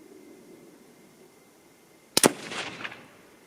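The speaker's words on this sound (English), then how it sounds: "Barrel is super hot, but this is the last 3 shots." A single sharp 25-06 Remington rifle shot cracks loud and close, fired from a hot barrel with 100-110 grain projectiles, followed by a brief rolling echo that fades out after a quiet lead-in.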